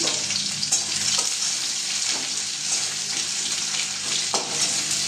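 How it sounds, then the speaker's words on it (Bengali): Chopped onion sizzles steadily in hot oil with whole cumin in a kadai, a close, continuous frying hiss with small crackles and no talking. "পেঁয়াজটা আমি দিয়ে দিলাম।"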